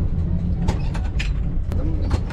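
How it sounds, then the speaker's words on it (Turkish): Nostalgic 1956 East German-built tram running in Kadıköy, Istanbul: a steady, close low rumble with occasional sharp clicks and rattles, with faint voices in the background. "Tren 1956 Doğu Almanya yapımı."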